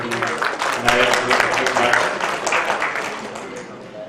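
Audience clapping to welcome a senior poet at a mushaira, sustained applause running throughout with a voice speaking over it.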